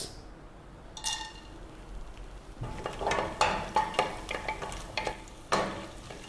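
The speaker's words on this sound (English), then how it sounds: "In this oil, I'm going to first fry the, this is called turkey berry or sundaka." Turkey berries drop into hot gingelly oil in a pan, sparking a sharp sizzle with crackling pops and a few stirring scrapes and clinks, close and fairly quiet.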